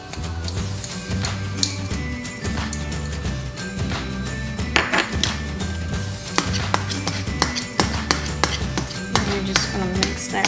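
A fork mashing and mixing egg yolks with apple cider vinegar and relish for Southern deviled eggs, producing steady rhythmic clinks and taps against a bowl, fairly close, with faint background music.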